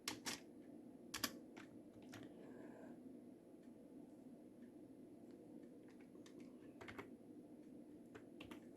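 Computer keyboard typing, close and quiet, comes in irregular bursts of clicks with short pauses between them, heard alone against a soft room background with no talking.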